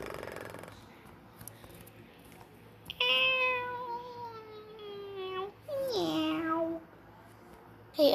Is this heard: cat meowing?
yes